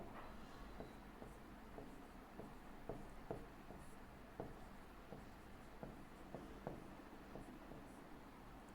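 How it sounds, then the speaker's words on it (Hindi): Chalk writing on a board during a classroom physics lesson, faint scratchy strokes and soft taps repeating irregularly against a quiet room background. "वेवलेंथ को यहां लिख दे रहा हूं"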